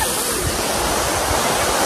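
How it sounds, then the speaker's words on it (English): Kegeti waterfall, a frozen waterfall near Bishkek in snowy Kyrgyzstan, roars as a loud, steady, close wash of falling water with no break or variation. "I'm standing just in front of the waterfall."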